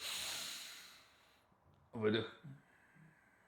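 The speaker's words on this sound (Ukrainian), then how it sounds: "Вдих. Видих." Slow breathing exercise during home back therapy: a long airy exhale fading out, then a short sharp inhale and softer breaths, close and quiet.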